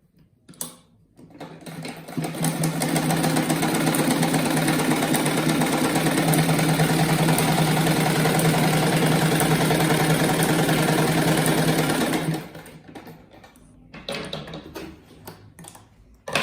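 A sewing machine stitches fabric scraps together for a round rag rug, starting after a quiet moment, then running in a steady fast mechanical whir and ticking for about ten seconds before stopping, with light handling noises afterward.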